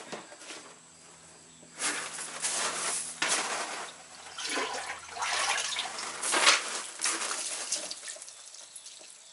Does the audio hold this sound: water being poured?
yes